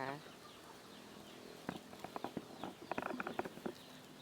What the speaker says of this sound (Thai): ค่ะลงมาแล้วเป็ดแล้วไก่วันนี้